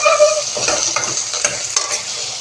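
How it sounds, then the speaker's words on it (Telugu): Onions and tomato chunks sizzle steadily in hot oil while a spoon stirs and scrapes through them, the frying hiss broken by a few sharper clinks and scrapes, close and fairly loud, with no talk. "ఇవన్నీ కూడా చక్కగా ఫ్రై అవ్వాలన్నమాట ఆయిల్లో."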